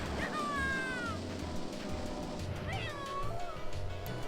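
A cat gives two clear, drawn-out meows close by, a short pause between them, over low, rhythmic background music.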